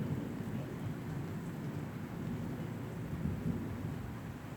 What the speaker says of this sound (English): It's raining. It's lightning.